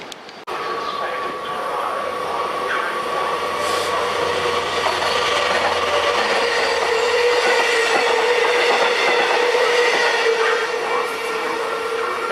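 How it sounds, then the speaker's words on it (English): A New York City subway number 7 train rumbles steadily past the 61st Street Woodside station, with a continuous loud roar of wheels on rails and faint squealing tones throughout. "The number 7 train runs from Manhattan out to Flushing."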